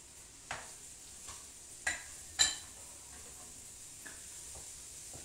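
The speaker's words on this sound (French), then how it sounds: "Vas-y Jacques, tu peux mettre tes champignons. Vas-y, tu mets tout. Voilà, tu mélanges." Mushrooms stirred into a frying duck confit and sweet potato hachis in a pan: a few scattered utensil scrapes and clicks over a faint, steady sizzle, quiet and close.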